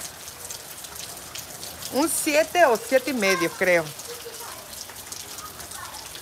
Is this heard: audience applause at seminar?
no